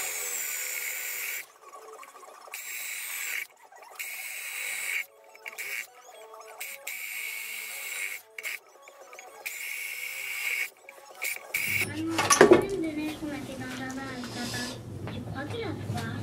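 A drill bites into sheet metal, backed by a block, while a camping gas stove is being built. Talk and scattered workshop sounds come first, then a brief whining drilling burst near the end.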